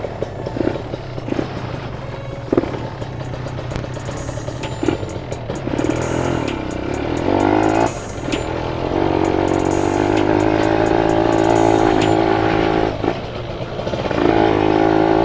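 A motorcycle fitted with a used TM34 carburetor is ridden on a test run, its engine revving loudly and climbing through rising, sustained pulls with short dips between.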